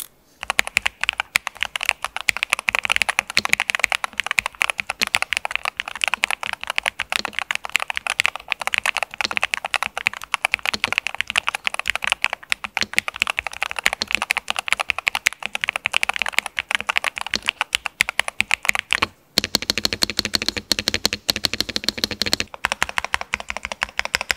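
A NuPhy Halo65 HE magnetic-switch keyboard is typed on continuously, rapid rounded clacks packed densely and up close, with a brief pause and then a slightly different run of keystrokes near the end.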